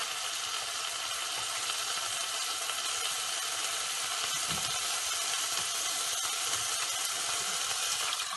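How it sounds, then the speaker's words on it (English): Milk infused with saffron pours into a pot of Kashmiri pulao and sizzles with a steady, dense hiss, loud and close throughout with no voices. "Now you can hear it sizzle."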